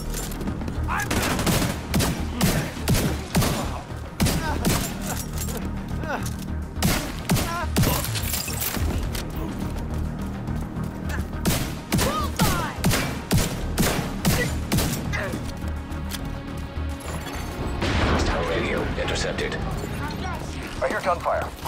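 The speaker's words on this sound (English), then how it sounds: "I hear gunfire." Rapid bursts of gunfire from The Division 2, dense and continuous, with crashes and shattering mixed in throughout.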